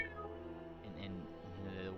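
A person imitating a cat's meow: two drawn-out, cat-like vocal meows with rising and falling pitch over a low, steady background hum.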